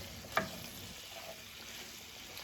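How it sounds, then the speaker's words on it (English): A low, steady sizzle of Spam and potatoes frying in butter in a pan, with one brief scrape near the start, quiet and close. "Currently, we are just frying Spam and potatoes, basically."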